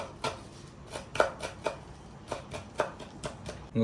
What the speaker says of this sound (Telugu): కొత్తిమీర కట్ చేసుకుంటాను